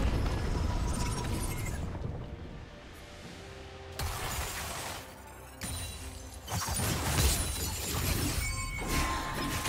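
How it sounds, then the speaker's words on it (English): A turret is destroyed in League of Legends: a game crash and shattering debris with booming, crackling bursts, followed by further clattering effects and a later swell of noise. "Red team's turret has been destroyed."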